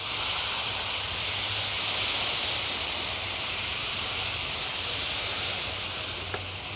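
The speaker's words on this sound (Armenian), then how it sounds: "կարող ենք ավելացնել մեր արգանակները" Broth poured onto risotto rice in a hot pan, giving a loud steady hiss of steam and bubbling that holds evenly and fades slightly near the end.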